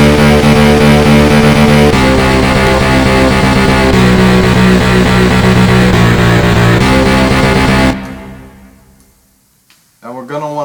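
A song from Undertale, rebuilt note by note as an electronic track, plays loud and dense with steady beats, then fades away near the end before a short final burst.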